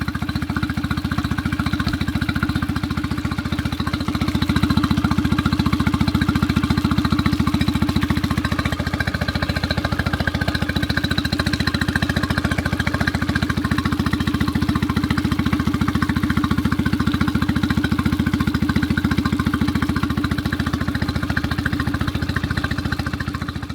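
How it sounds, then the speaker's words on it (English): A new Suzuki outboard engine runs steadily on a Gheenoe boat, a close, loud, continuous motor drone that holds an even pitch for over twenty seconds with no talking over it. "How exciting, a new Gheenoe engine. Thank you, Suzuki."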